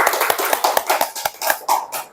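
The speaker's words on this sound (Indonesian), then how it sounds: "Tepuk tangan dulu." A classroom of students claps their hands together in a quick run of sharp, close claps, a brief round of applause with no talking.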